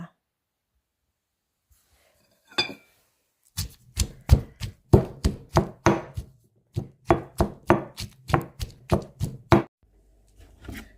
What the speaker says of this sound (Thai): กระเทียมนะคะ ที่เรา คั่วนะคะ เดี๋ยวเราจะนำมาโขลก ไม่ต้องละเอียดมากก็ได้นะคะ